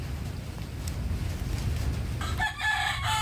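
A gamefowl rooster at a small hillside chicken farm crows once near the end, a bright harmonic call rising over steady low wind rumble after a few seconds of ambient noise.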